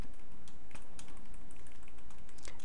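Rapid typing on a computer keyboard while coding, a steady close-up patter of key clicks with occasional louder keystrokes, with no speech.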